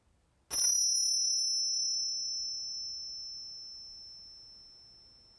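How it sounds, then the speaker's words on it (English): A single bell is struck once to close a Yoga Nidra relaxation practice. It gives a bright, clear ring with a long, slowly fading sustain in an otherwise quiet room. "I will ring a bell, and that will signal the end of our Yoga Nidra practice"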